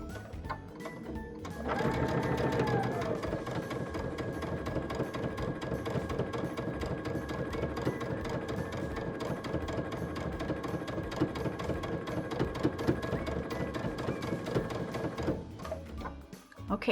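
A domestic sewing machine stitching quilting fabric squares for half-square triangles runs at a fast, steady rattle after a brief quiet start, then stops near the end; close and alone.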